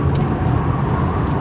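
A 2022 Mazda CX-30 Turbo with all-wheel drive pushes through a tight turning circle, a steady loud rumble of engine and tyre noise filling the cabin without a break.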